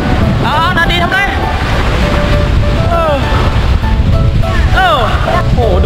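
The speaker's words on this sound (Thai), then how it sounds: "โอ้โหดูดิน้ำทะเลเริ่มขึ้นแล้วนะเนี่ย" Sea waves washing onto a beach at a seaside resort in Phetchaburi, a constant loud surf rush buffeted by wind noise, with children's voices and talk over it.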